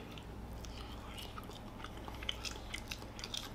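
Quiet close-up chewing of spongy bowfished carp meat with rice, soft irregular wet bites and crunches over a low steady background hum, with no talking.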